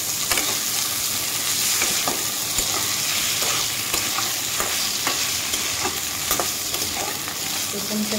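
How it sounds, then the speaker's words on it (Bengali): Paneer cubes fry in hot oil in a pan, a loud, continuous sizzle broken by scattered crackles and pops, with no talking over it. "আমি হালকা করে ভেজে নেব। পনিরটাকে আমি উল্টে দেব।"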